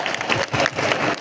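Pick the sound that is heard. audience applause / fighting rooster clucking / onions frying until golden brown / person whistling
audience applause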